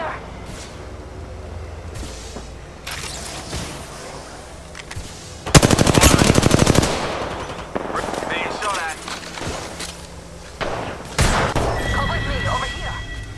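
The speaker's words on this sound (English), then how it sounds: "Taking fire!" Sustained automatic gunfire rattles through a video game firefight, a loud, dense burst in the middle with scattered shots and impacts around it, while voices call out over the combat.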